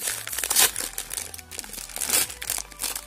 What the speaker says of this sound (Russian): открываем куриный доширак